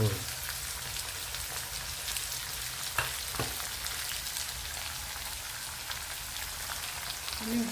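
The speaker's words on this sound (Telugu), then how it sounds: "ఇప్పుడు ఉల్లిపాయలు వేసుకుందాం ఉల్లిపాయలు పచ్చిమిరపకాయలు" Onions and green chilies fry in a pan for semiya upma, giving a steady, even sizzle with a couple of faint clicks of a utensil, close and continuous with no talking.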